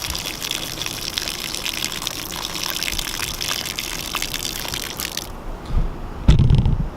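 Water poured steadily onto soil while planting a tree, a continuous gushing splash for several seconds that ends with a brief louder slosh and thud.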